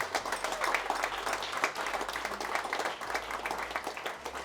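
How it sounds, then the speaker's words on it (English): A warm round of applause rolls through a Christmas party crowd in London, steady dense clapping at moderate volume, continuing without a break. "Big round of applause for Michael."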